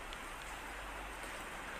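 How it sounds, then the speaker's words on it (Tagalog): Heavy rain pours steadily during Typhoon Paeng near the flooded Magallanes Tunnel, a dense, constant hiss with no gaps and no voices. "tuloy pa rin yung pag-ulan."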